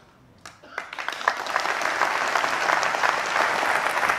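Conference audience clapping during a Tory party conference speech, starting with a few scattered claps and quickly swelling into loud, sustained applause from a large crowd.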